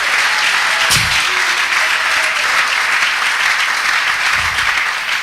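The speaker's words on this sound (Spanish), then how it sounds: "Dale fuerte esas palmas al Dios de la gloria." A church congregation clapping hands during a Spanish-language sermon, loud, dense and sustained like continuous applause, with a couple of brief thumps breaking through the steady wash.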